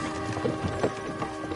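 Horse hooves clop in a rapid galloping rhythm in Kingdom Come Deliverance 2, a steady run of close hoofbeats with no speech over them.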